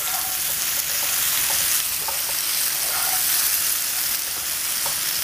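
Leftover roast potatoes fry with spices in a pan, giving a loud, dense, unbroken sizzle close by, with faint utensil taps scattered through it.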